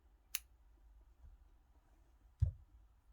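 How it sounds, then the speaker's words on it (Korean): Scissors snip red yarn twice, a quiet close click near the start and a firmer cut about two seconds later, against a faint low background hum. "이제 빨간색은 실을 잘라줍니다"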